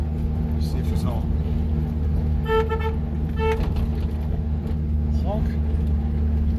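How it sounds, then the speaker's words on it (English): Two short car horn honks stand out over a steady engine drone, with a couple of softer toots around them. "This car does have the city horn and the country horn."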